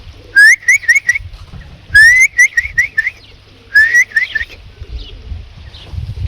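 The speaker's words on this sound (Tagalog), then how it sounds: "Magdatingan na yung mga ibon natin, mga kalapito." Racing pigeons returning to the loft after a 360 km race: bright whistling chirps come in three short bursts, each a quick run of rising notes, with low rustle and handling noise between.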